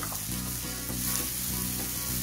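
Grated coconut sautéing in a pan for green prawn kurma, a continuous close sizzle with a few soft stirring knocks.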